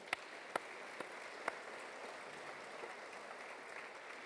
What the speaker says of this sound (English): Will you please give a round of applause too?